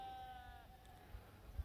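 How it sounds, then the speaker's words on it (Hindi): Sheep bleat on a hillside in Kashmir, one clear drawn-out call heard faint and distant against quiet open air. "भेड़ों की आवाज़ इत तक आए लगी।"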